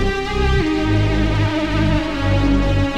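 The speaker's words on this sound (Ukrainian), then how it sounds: "Разом з різ-басом це звучить так." A jump-up drum and bass lead synth with automated vibrato plays over a growling reese bass, loud, dense and sustained with no drums, the low bass shifting pitch every half second or so.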